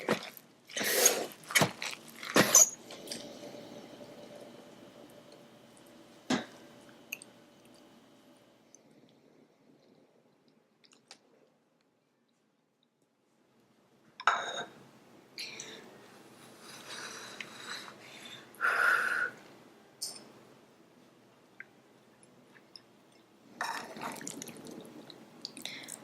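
Sticky rice jambalaya with green onions and cinnamon is stirred in a pot, giving soft, close wet squelches and scrapes in scattered bursts separated by long quiet gaps, with no talk.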